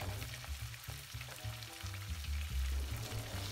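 Pieces of pork fry in a pan, a soft, steady sizzle with low bubbling pulses and the occasional scrape of a turning utensil, fairly quiet and heard alone without speech.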